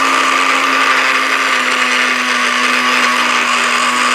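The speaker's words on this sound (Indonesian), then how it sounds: "Lalu kita blender bersamaan" A blender whirs loudly and steadily throughout, blending mint leaves and water, a constant high-pitched motor hum with churning liquid and no talking.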